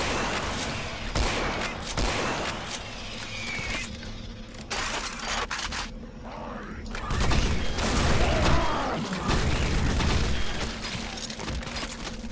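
Shotgun loaded with slugs firing in the Doom mod Project Brutality, as heavy booming shots amid dense, chaotic combat noise with explosions and clatter, loud and continuous for most of the clip.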